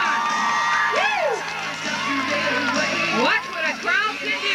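Crowd at a 1989 freestyle BMX action sport show cheering, whooping and shouting loudly and continuously, with children's high-pitched yells rising and falling over the roar.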